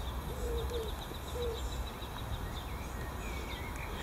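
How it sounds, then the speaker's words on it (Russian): Pigeon or dove cooing in a garden, two soft low coos early on over a steady wash of background birdsong and insect chirping, fairly distant with no talking. "Нет, кто там так курлыкает?"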